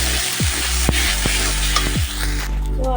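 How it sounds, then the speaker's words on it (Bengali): Spice paste sizzles loudly and continuously as it is sautéed in a hot pan for a pea-filled kachori, with occasional sharp scrapes of stirring cutting through the steady frying hiss. "এবার এখন আমি এই যে পেস্টটা রেডি করেছিলাম, পেস্টটা দিয়ে এটা একটু কষিয়ে নিয়ে নেব"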